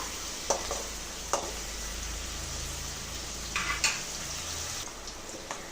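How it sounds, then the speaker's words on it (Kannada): Chopped onions fry in a pan for beetroot palya with a steady, close sizzling hiss, broken by a few light clinks and scrapes of stirring. "ಈರುಳ್ಳಿ ಸ್ವಲ್ಪ ಫ್ರೈ ಆಗೋ ತನಕ, ಸ್ವಲ್ಪ ಹಸಿ ಸ್ಮೆಲ್ ಹೋಗೋ ತನಕ ನಾವು ಫ್ರೈ ಮಾಡ್ಕೊಳ್ಳೋಣ."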